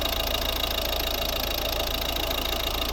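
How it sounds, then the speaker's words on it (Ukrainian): A 2011 Volvo V50 1.6 D2 diesel engine idles steadily nearby, a constant even rumble with a faint rapid knock and no voices. "Ось робота двигуна."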